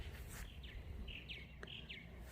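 Small birds chirp in a backyard garden near covered blueberry bushes, short bright calls repeating every half second or so over low background rumble, faint and somewhat distant.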